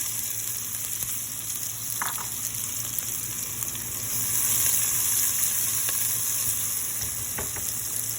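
Onion sautéing in oil in a pan, a steady, even sizzle that swells slightly louder midway, with a few small clinks of a utensil and no talk.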